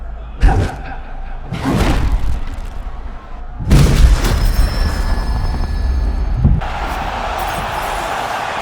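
Heavy ground and pound strikes landing in a UFC 6 career mode fight, a few loud thudding impacts spaced out over several seconds amid arena crowd noise, with commentators talking throughout.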